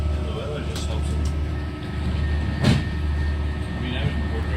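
Train 3023 running to Bangor, a steady low rumble of the carriage in motion with a brief louder surge midway; people talk faintly over the running noise.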